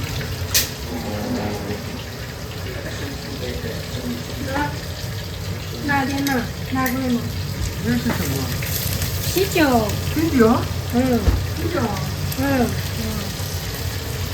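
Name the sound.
beer poured into cooking pan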